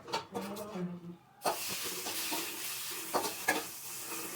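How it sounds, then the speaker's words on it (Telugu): Curry leaves and cut green chilies drop into onions frying over a low flame in a pan, and a loud, steady sizzle and hiss bursts out and holds. A voice is heard briefly just before. "వీటిని సన్నటి సెగ పైన దూరగా వేయించుకుంటూ ఇందులోనే కరివేపాకు రెండు పచ్చిమిరపకాయలు కట్ చేసి వేద్దాం"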